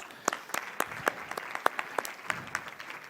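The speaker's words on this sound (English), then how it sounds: "so they deserve a round of applause" Audience applause at a retail trends conference, a moderate, somewhat sparse clapping with distinct individual claps standing out, heard fairly close.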